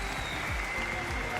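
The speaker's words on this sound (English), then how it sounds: "This crowd is going crazy." A live crowd at a Fortnite FNCS event applauds and cheers, a dense, steady wash of clapping heard at a distance and fairly faint.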